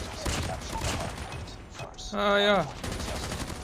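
Gunfire in the Call of Duty Mobile video game, a hipfired weapon from a gold chopper build, sounding as a quick burst of shots with a sharp mechanical ring, amid game noise and a brief voice.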